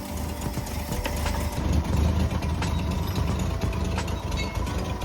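A 1960s Ford F100 pickup engine idles steadily just after starting, a continuous low rumble with a rough, slightly uneven pulse that holds close and loud throughout.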